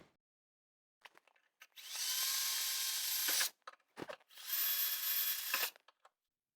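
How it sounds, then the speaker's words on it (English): Power drill boring pilot holes in metal for DIY mini boatside rock sliders, two sustained whining bursts of about a second and a half each, separated and framed by short clicks and handling knocks, close and alone. "So need to drill a bunch of holes first."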